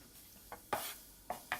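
Stir-frying in a pan for a Lao dish with cilantro before spinach goes in: a soft sizzle under several quick, bright scraping stirs of a utensil, close and moderately loud.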